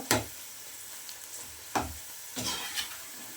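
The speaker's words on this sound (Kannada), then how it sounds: "ಈ ಥರ ಸ್ವಲ್ಪ ಕ್ರಂಚಿ ಆಗೋ ತನಕ ನಾವು ತಿರುಗಿ ತಿರುಗಿ ಬೇಯಿಸ್ತಾ ಇರಬೇಕು" Okra for a crunchy bendekai kurkure snack sizzles in hot oil in a pan, broken by three sharp stirring scrapes spaced a second or so apart, close and fairly loud.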